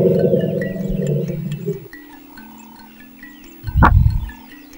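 An African elephant in Tanzania gives a deep, loud, harmonic rumble lasting nearly two seconds, then a quieter lower rumble and a short heavy burst, heard nearby without speech.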